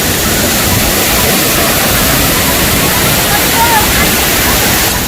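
The Kakochang waterfall's rushing water makes a dense, unbroken roar, a steady hiss that fills the scene at constant loudness from start to finish.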